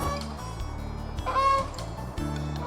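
A Canada goose honks at Burnaby Lake, a few clear calls rising around the middle of the clip over a steady low background hum.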